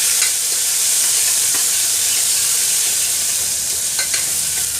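Ginger julienne, curry leaves and ginger garlic paste sizzle steadily in hot oil while being stirred, a continuous bright frying hiss with a few soft scraping clicks.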